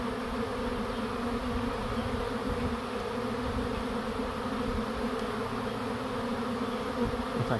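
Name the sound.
honeybee swarm buzzing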